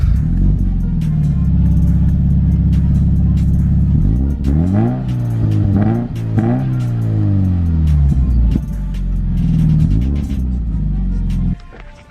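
A car engine idles close by, then revs up several times in rising and falling sweeps before settling back to a loud, steady idle, with a final brief rev near the end.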